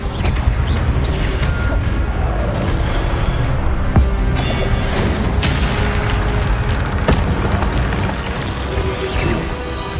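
Incendio fire spell cast in Hogwarts Legacy on PS5, loud booming blasts and crackling bursts of flame amid dense, continuous combat noise with scattered sharp impacts.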